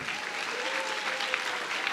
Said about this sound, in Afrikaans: Goed, kom ons klap vir hulle lekker hande.